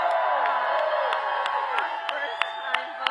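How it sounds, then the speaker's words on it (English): A crowd at a Las Vegas campaign rally applauds and cheers for first-time voters, with a dense wash of clapping and whoops, sharp cheers rising every few moments, while a voice carries on over it. "let's applaud our first-time voters"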